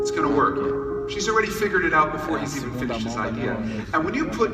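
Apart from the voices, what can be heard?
No everyday noises stand out.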